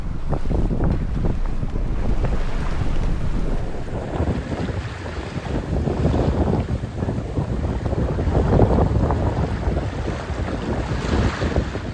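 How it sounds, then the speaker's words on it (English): Wind and crashing waves roar steadily around a sailboat on a rough solo passage from Flekkefjord to Kvitsøy, with constant loud wind buffeting the microphone and the hull pounding through heavy swells, no voices. "It was like huge waves and I had to really fight with the rudder."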